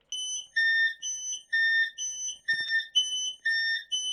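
A shrill electronic two-tone train whistle in the Roblox game Stepford County Railway, alternating high and low notes in a steady repeating pattern, with a brief rattling knock partway through.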